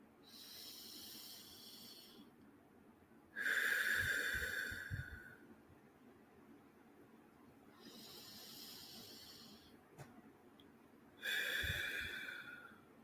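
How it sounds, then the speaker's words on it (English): Slow, deliberate breathing with drawn-out breaths in and out, forming several loud, hissing swells separated by quieter pauses, close and alone with no talk. "breathing in and out"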